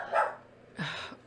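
A dog gives two short barks, close and fairly loud, a sharp yelp followed after a pause by a fuller bark with a low whimpering tail.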